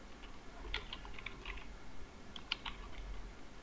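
Keys on a computer keyboard tapped in two short bursts while text goes into a PDF form field, with light, close clicks and a brief pause between.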